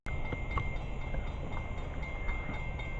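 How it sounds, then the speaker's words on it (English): A train rolls past in a steady, loud rumble lasting the whole stretch, with faint rhythmic clacks of wheels over rail joints and a thin high whine above, heard outdoors during a summer railfanning outing. "here comes another train"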